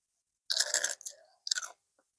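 Close, crisp crunching of homemade potato crisps cooked in a single pan in a camper van: two loud bursts of bites and chewing separated by a short pause, with no talking.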